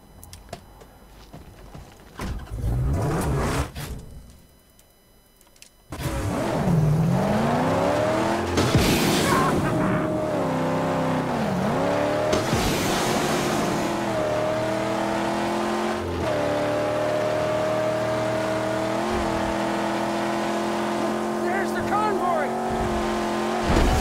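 A car races in the Mad Max video game, its engine roaring loudly and steadily with revving pitch sweeps and squealing tires, after a short quieter stretch at the start, no talking.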